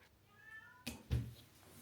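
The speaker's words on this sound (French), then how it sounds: "Ah, il y a mon chat qui miaule," A domestic cat meows softly indoors, a faint brief call followed by a couple of louder thumps or knocks nearby.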